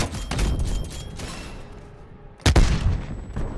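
In a video game, a frag grenade is thrown and explodes. Loud rattling gunfire thins into a brief lull, then a sharp, heavy blast bursts in close and rumbles away.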